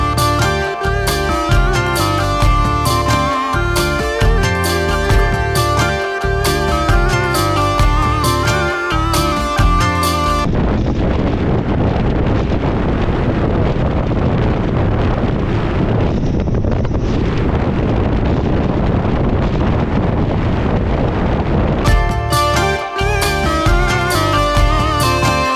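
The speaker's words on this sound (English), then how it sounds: "And the wind is just hitting us from one side like bam." Strong wind buffeting the microphone outdoors in Kazakhstan, a loud continuous roar of rumbling gusts in the middle section, with music playing before and after it and no talking.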